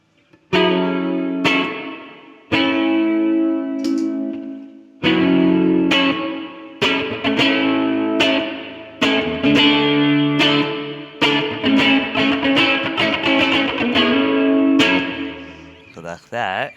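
Bass guitar run through a JD Pedals Sunday Drive with chorus and reverb plays a loud series of plucked notes and short phrases with ringing, effect-washed sustain, picking up pace toward the end.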